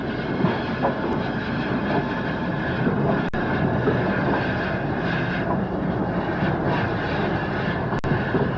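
A 1912-designed 0-8-0 steam freight locomotive arriving at Stretchford, heard as a loud, steady rolling rumble with faint rail clatter and a few sharp clicks, close and continuous.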